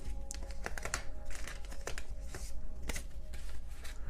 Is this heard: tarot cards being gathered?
yes